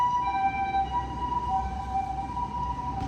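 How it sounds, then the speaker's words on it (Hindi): An ambulance siren wails close by in a steady, loud tone with a bright, piercing pitch over a low traffic rumble, and no one speaks. "देखो फिर से एम्बुलेंस चल रही है"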